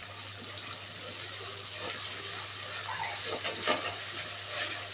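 Ginger garlic paste sautéing in sesame oil for fish curry, giving a dense, steady hiss and sizzle with faint stirring scrapes near the end; close, continuous and free of speech.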